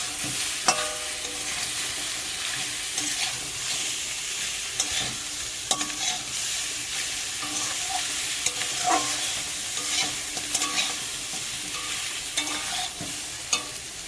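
Banana flower, prawns and potato frying in a spiced turmeric masala, a steady close sizzle with scraping stirs and occasional clinks of the utensil against the pan.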